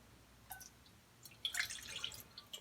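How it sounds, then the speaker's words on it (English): Used fish-frying oil is poured into a cooking pot, producing a faint, thin trickle with soft splashy drips that build toward the middle and then taper off. "So I'm going to pour it in the pot."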